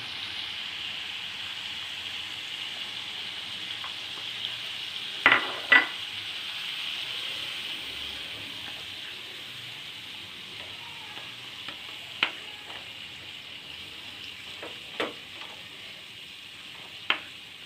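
Tomato puree fries in hot oil with a soft, even sizzle while a spoon stirs it, with a few sharp scrapes and knocks against the pan along the way.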